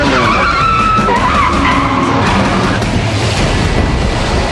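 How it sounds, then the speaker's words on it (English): Loud tyre skids and squeals from cars in a theme park car chase stunt show at Walt Disney World, steady and continuous across the whole stretch with engine roar and a wash of crowd-like noise beneath, no talk. "something as kinetic and unpredictable as a car chase"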